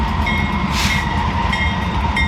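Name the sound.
GE Evolution locomotive freight train passing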